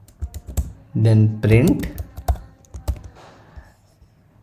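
Keyboard clicks as code is typed on a computer keyboard, a quick irregular run of close taps interleaved with someone speaking.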